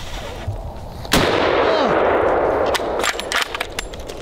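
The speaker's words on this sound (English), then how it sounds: "I've been waiting to shoot this bad boy." A single loud MRAD rifle shot fired at an outdoor range, a sharp crack followed by a long rolling echo, then a few faint metallic clicks.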